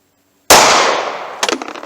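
A single 9mm +P Hornady Critical Duty round fired outdoors about six yards from a chronograph: one sharp, loud crack with a decaying tail, followed by a brief clatter.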